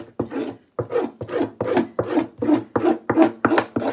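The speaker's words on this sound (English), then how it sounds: "still some of this black stuff to be scraped off" A blade rasps repeatedly across raw fish skin being scraped clean for leather, with about ten rhythmic, close scraping strokes in quick succession and no voices.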